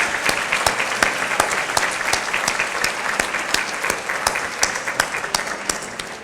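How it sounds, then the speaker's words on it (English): A school audience claps loudly for middle school performers at a county Teachers of the Year ceremony, a dense, continuous round of applause with crisp, close individual claps throughout. "please join me in a round of applause for the Excelsior Middle School performers and Kathy Tickner"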